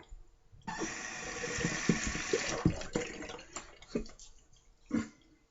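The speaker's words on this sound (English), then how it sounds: "Let me rinse my face a bit and dry it." Tap water runs and splashes as someone rinses their face at a sink, starting abruptly after a moment of quiet and broken by uneven splashes before stopping near the end; no speech.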